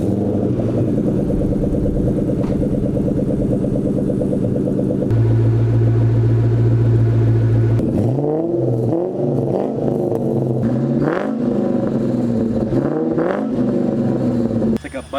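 A 5.0 car fitted with a DNA Motoring cat-back exhaust rumbles at idle, swells into a deeper, louder rev, then settles back while someone talks over the engine.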